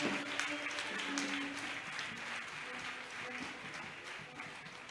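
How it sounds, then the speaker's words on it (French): A congregation applauds and acclaims during a Christian worship broadcast, a fairly steady wash of clapping at moderate distance, with faint voices and a few tonal notes beneath. "Bien-aimé, acclame bien Jésus."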